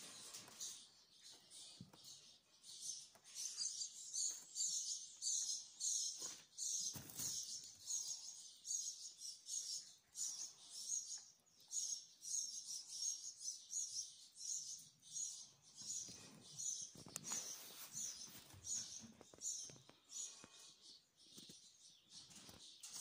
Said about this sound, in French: si je me tais, vous allez entendre, c'est le festival des oiseaux.